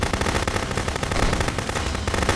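Loud, continuous automatic gunfire from the video game Contraband Police, a dense close rattle of many rapid shots with no talking.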